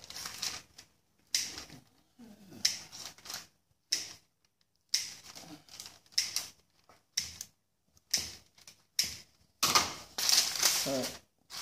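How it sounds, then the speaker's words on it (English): Repeated crisp snipping and clicking of scissors cutting bread dough, irregular bursts close up, with brief quiet gaps between cuts. "the easiest way is with scissors. So you cut and push it in opposite directions."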